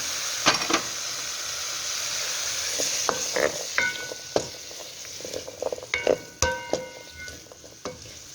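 Onion, tomato, carrot and garlic cloves sizzle steadily in hot oil in a pan for a tomato carrot soup, with a continuous hiss broken by close clinks and scrapes of stirring.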